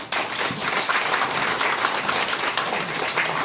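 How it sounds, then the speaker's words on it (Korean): Audience applause at the close of a talk, just before questions are taken: dense, steady clapping that holds loud and close for the whole stretch, with no voices over it. "박수."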